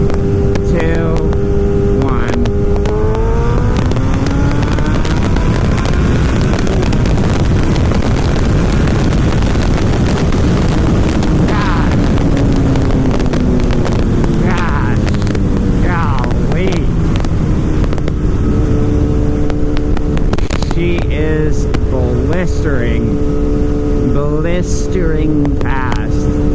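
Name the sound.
old liter motorcycle accelerating hard in second gear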